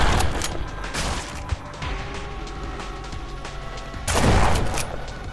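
Gunfire from the horror game In Sound Mind, with a couple of loud bursts at the start and again near the end over a dense, noisy game soundtrack.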